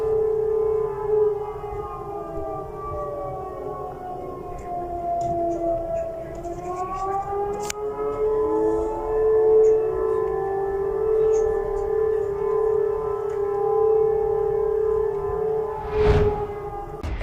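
An emergency civil defense siren wails over Belgorod, Russia, during a drone and missile alert, a loud sustained tone slowly rising and falling in pitch for the whole stretch, with a brief thud near the end.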